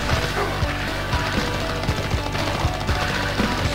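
Rapid gunfire in the Mega Drive video game Xeno Crisis, a dense stream of repeated shots with sharp low thumps over a busy, loud game soundtrack.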